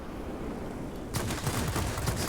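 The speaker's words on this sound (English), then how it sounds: "Two 23mm cannons. What does this sound like?" After a stretch of steady engine rumble, a rapid burst of heavy fire from two 23mm aircraft cannons on an I-250 in World of Warplanes erupts, rattling on continuously in quick succession.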